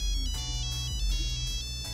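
A mobile phone rings with an incoming call, a loud, steady electronic ringtone melody repeating its tones close by, with no talking.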